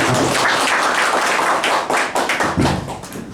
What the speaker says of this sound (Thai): ขอเสียงปรบมือขอบคุณท่าน